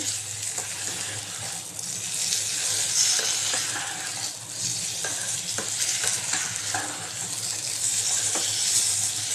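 A cupful of an ingredient for chicken biryani fries in a pan, a continuous loud hissing sizzle broken by stirring scrapes and clinks throughout.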